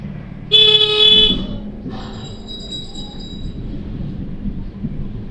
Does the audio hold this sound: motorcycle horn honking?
yes